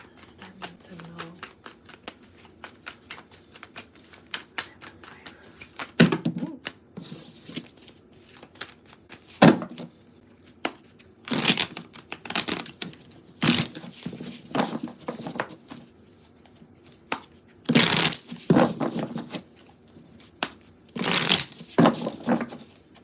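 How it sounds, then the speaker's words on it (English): Tarot cards are shuffled repeatedly in bursts of riffling and slapping, close by, with pauses between rounds and quiet room sound in the gaps. "as I was like shuffling the cards and everything like that"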